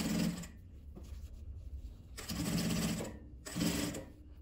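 A sewing machine stitches lace onto bias tape in three bursts of rapid, even mechanical whirring and clatter, close and moderately loud, separated by quieter pauses, with no talking.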